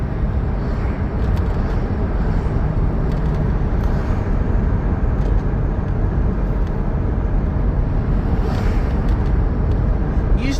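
Cars on a road in Los Angeles County make a loud, steady roar of traffic and tire rumble that never lets up, with faint passing swells.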